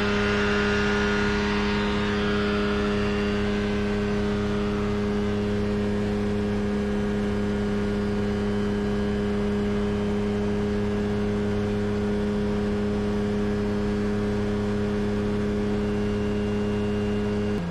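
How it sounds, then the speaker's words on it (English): A Rotax 582 two-stroke engine on a Kitfox light aircraft runs steadily at a constant idle-like drone with strong tonal hum, close and continuous with no talking. "updates about the engine, which as you can see is running nicely now"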